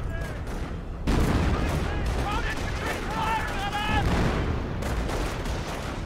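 Company of Heroes battle on a random map: a constant rumble of artillery and scattered gunfire plays as a steady backdrop, with a heavier surge after the first second, while commentators talk over it.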